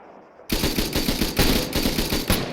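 Unsuppressed automatic gunfire in the video game Arma 3, a loud rapid burst of shots that starts abruptly after a brief quiet moment and keeps firing in a fast, uneven rattle.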